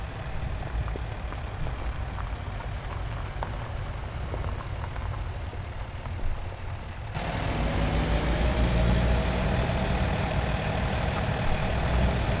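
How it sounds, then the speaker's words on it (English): Rain falling in the American Truck Simulator game, a steady hiss of drops on the surface that swells louder partway through, over a low truck engine hum, with no talk. "it's just starting to rain"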